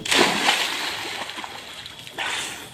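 A dog leaping into water to reach a drowning person: a loud splash at the start, sloshing and splatter that fade, then a second burst of splashing near the end.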